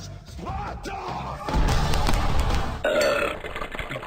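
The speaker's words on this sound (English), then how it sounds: "Don't belch at me." A loud, drawn-out cartoonish belch sound effect from The Impossible Quiz 2 video game, rumbling for several seconds over game music.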